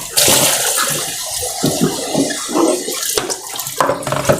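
Running water splashes steadily as mee sua noodles are rinsed by hand to wash out their saltiness, a close and continuous sound with no talk.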